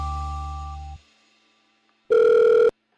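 A telephone line tone sounds loud and close for about a second, then after a short silence a harsh buzzing ring bursts once, as a call is placed to a prison.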